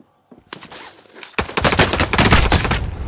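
Dense automatic gunfire in Modern Warfare (2019) Resurgence, a loud, continuous rattling burst after a few short opening shots, close and sustained without speech.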